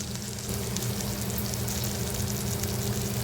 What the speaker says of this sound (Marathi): आता हे मसाले व्यवस्थित परतून घ्यायचे आहेत आपल्याला